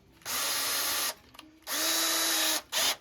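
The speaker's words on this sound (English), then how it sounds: "now we can come on the top side here and drill it with the right size" A power drill whirs in three bursts while drilling rivet holes in a Wizard of Wor arcade cabinet, the first two about a second long and the last short, with a steady whine and quiet gaps between.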